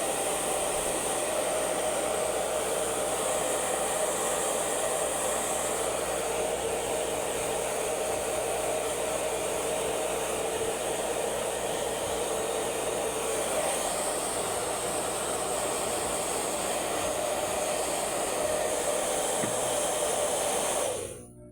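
A hair dryer blows steadily and loudly right after a shower, a continuous airy roar with a high whine that runs without a break for about twenty seconds before cutting off at the end.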